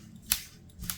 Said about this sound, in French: Et je coupe le fil.